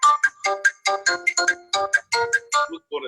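A mobile phone ringtone goes off during a talk show, a bright repeating melody of quick electronic tones that plays loudly and on its own, with no talk over it.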